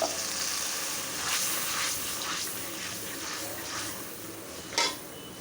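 Onion and coconut milk fry in oil in a pan as the base for rui fish curry, giving a steady close sizzle with scraping stirs and a sharp clink of a utensil near the end.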